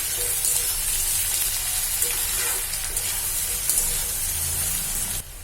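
Potatoes fry in a pan with a loud, dense, continuous sizzle and spit that stays close and steady, then drops off abruptly near the end, with no talk.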